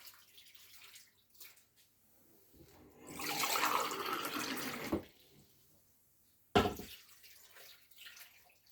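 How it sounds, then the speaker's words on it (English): Water poured into a cooking pot for scouse, a few brief splashes building into a sustained pour lasting about two seconds, then a short final splash, close and clear. "I'm going to add the water in now."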